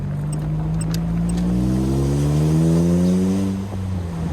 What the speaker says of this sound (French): La sonorité à l'échappement, vraiment sympa.